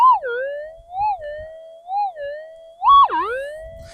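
A Minelab GPX-5000 metal detector's warbling target tone wavers up and down in repeated pulses, rising sharply near the end, clear and alone, in a gold field.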